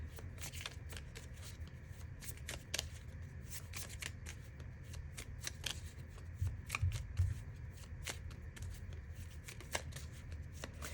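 Oracle cards shuffled by hand in a long run of rapid riffling and flicking card strikes, close and crisp, with a few slightly louder slaps near the end and no speech.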